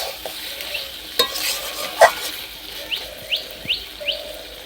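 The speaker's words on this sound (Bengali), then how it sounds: "কম করে একটু আঁচ দিয়ে বারে বারে এইভাবে নেড়ে চেড়ে কষিয়ে নিতে হবে" Mutton pieces sauté over a low flame in a pan for a thin potato mutton curry, with a steady sizzle under repeated stirring scrapes and a few sharp metal knocks, close and moderately loud, no talk.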